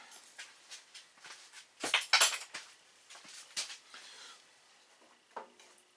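A spoon stirs salt into oatmeal in a bowl, giving scraping, clinking strokes that come in irregular bursts, close and fairly quiet, with no talking.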